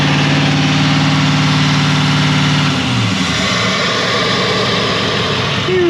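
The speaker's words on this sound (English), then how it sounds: "I hear turbo noises." A Silverado Duramax 6.6 L L5P diesel engine runs loud and steady, with a strong low tonal drone that drops in pitch partway through as revs fall. A higher turbocharger whine rises at the end.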